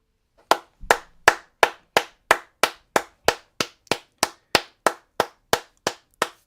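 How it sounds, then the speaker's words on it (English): Slow, evenly spaced hand claps of a slow-clap applause, about sixteen sharp claps with a steady beat, close and clear with no talking. "Slow clap."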